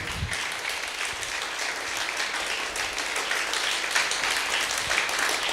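Worship congregation clapping together in a church service, a dense continuous wash of many hands applauding steadily throughout, fairly loud and close with no speech over it.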